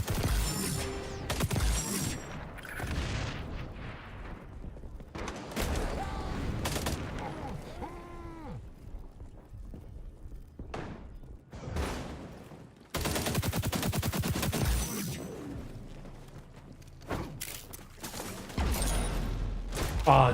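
Rapid bursts of automatic gunfire and single shots ring out repeatedly in an XDefiant match, loud and close, with someone talking over parts of the shooting.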